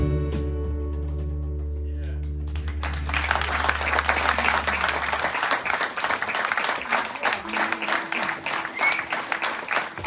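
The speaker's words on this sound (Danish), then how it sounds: "Det er dejligt at spille for et publikum, der klapper for en gang skyld" A live audience at a concert at Maltfabrikken in Ebeltoft bursts into loud, sustained applause as a held musical chord fades out, the clapping continuing dense and steady to the end.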